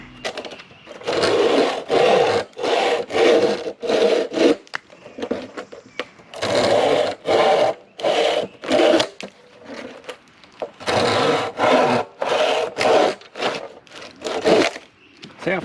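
A 30-inch bow saw cuts firewood with fast, rhythmic back-and-forth strokes, loud and close, in several bursts separated by short pauses.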